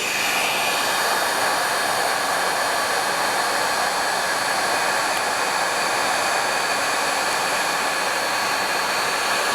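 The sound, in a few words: heat tool blowing to heat embossing powder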